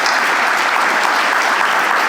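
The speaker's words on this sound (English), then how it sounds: "Let's start with a big round of applause." A crowd at a 50th reunion brunch celebration breaks into loud, sustained applause, with dense clapping filling the room throughout.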